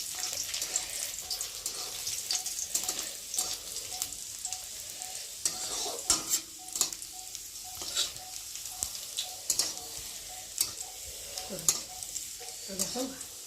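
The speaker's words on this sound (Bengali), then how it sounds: "রসুনটা একটু ভালো করে ভেজে নিই" Garlic fries lightly in a pan with a continuous low sizzle, punctuated by frequent clicking and scraping stirs close by, with faint running water now and then and no talking.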